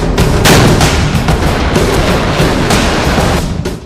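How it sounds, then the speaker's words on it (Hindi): Taiwanese artillery cannons fire shells at sea in a loud rapid series of heavy booms and blasts, the reports overlapping into a dense, rolling barrage. "अब ताइवान के तोप गोले उगल रहे हैं।"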